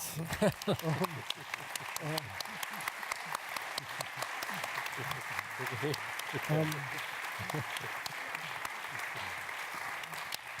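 Audience applause at a summit panel discussion, a sustained patter of clapping lasting throughout, with a voice speaking over it at moderate level.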